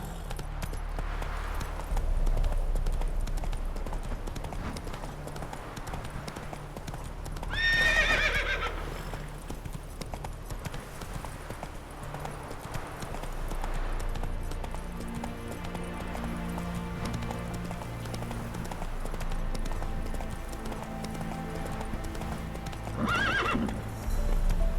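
Roach, a horse in The Witcher 3 video game, gallops with steady, close hoofbeats, gives two clear neighs partway through and near the end, and runs on under faint game music.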